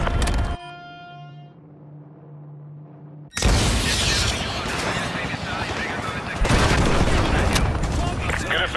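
In a Call of Duty Modern Warfare 2 campaign mission, an AGM missile strikes and destroys a BTR armored vehicle. A tonal hum runs under a muffled lull, then a sudden loud blast gives way to sustained roaring explosion and rumbling chaos.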